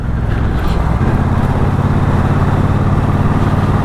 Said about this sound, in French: Quand on est en dessous de 2000 tours, on sent bien le moteur claquer.